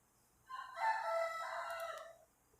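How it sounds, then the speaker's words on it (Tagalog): A single rooster crows once from a short distance, a drawn-out call of about two seconds, clear against a quiet background. "Kulit talaga nung manok na yun."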